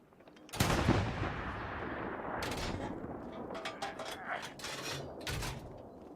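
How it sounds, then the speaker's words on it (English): A single loud, booming shot opens in the World War II shooter Hell Let Loose, followed by more distant cracks and rumbling battlefield fire trailing off, with no voices. "I'm gonna fire on it"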